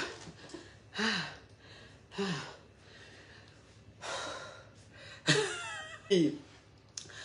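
A woman catches her breath after drinking water, with several sharp gasps and heavy exhalations spaced a second or so apart, close and fairly quiet, with faint talk in between.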